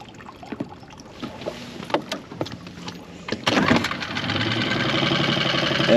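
A Mercury 6 hp four-stroke outboard motor is pull-started after a few scattered knocks, catching and settling into a steady, close running drone that holds to the end.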